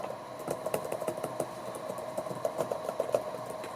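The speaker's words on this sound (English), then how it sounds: "it slightly has a deeper sound when you just type on it, or really quickly will type on it" Someone types on a Microsoft Surface Pro 4 keyboard cover, soft quick keystrokes tapping in an uneven stream, close and fairly quiet with no voices.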